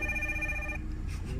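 A telephone rings with a steady electronic tone that cuts off partway, leaving a low background hum.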